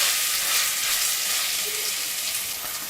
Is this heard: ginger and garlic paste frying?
yes